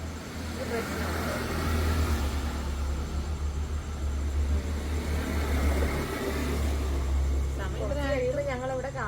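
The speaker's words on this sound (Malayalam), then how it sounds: "ഈ വണ്ടികളൊക്കെ പോകുന്നതുകൊണ്ട് ആ സൗണ്ടിന്റെ പ്രശ്നമുണ്ട്." Road traffic rumbles steadily past a roadside spot at night, a continuous low engine drone from passing vehicles with a voice speaking briefly near the end.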